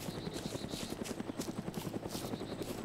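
An NPC helicopter in the Arma 2 DayZ Mod game thumps with rapid, steady rotor pulses, loud and continuous, with a whining turbine hiss above it.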